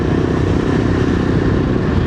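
Motorcycles ride along a road, giving a loud, steady engine drone close by that continues without a break for about two seconds.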